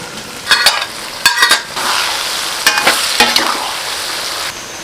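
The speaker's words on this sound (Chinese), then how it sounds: "小火炒个10几分钟" Chili is stir-fried with rabbit in a wok over low heat, with a steady sizzle broken by several loud scraping, clattering strokes of the spatula. The sound is close and rhythmic, with no voices.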